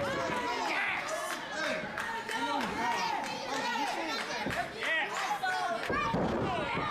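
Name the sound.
wrestler slammed onto the ring mat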